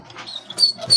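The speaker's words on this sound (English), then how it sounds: "Such a sweet dog." A dog gives short soft whimpers and yips, close and fairly loud, in brief bursts within a second.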